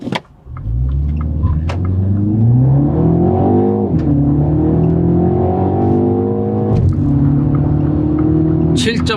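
A Mini Cooper S three-door with 204 horsepower accelerates hard in go-kart mode, its engine rising loudly through the revs with clear gear changes, heard from inside the cabin.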